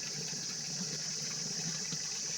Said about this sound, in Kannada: ಒಂದು ಬಕೆಟ ತುಂಬ್ಕೊತಾ ಇದ್ದೀನಿ